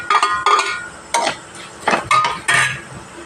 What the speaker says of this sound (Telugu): ఇప్పుడు ఒక 4 వెల్లుల్లిపాయలు నలగొట్టి వేస్తున్నాం.